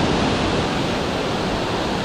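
Water rushes down the dam spillway on Laurel Hill Creek, a loud, continuous broadband roar that holds steady throughout with no other sounds.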